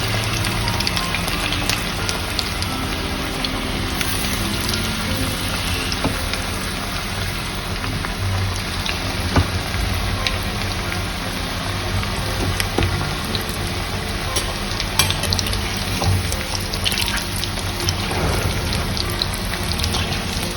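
Chicken pakoras deep-frying in oil in an iron wok, a continuous close crackling sizzle that holds steady and loud throughout, with no talk.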